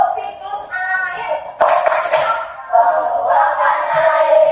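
Schoolchildren in a primary classroom clap out a patterned water-cycle rhythm together, sharp group claps in a steady beat mixed with voices chanting along.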